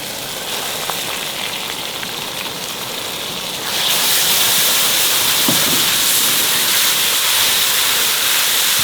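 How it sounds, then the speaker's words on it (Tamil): Ginger garlic paste added to fried onions in a large pot for a chicken biriyani, a loud steady hiss that jumps in strength partway through as the paste hits the hot oil and keeps sizzling. "இப்போதான் இஞ்சி பூண்டு சேர்க்கணும்."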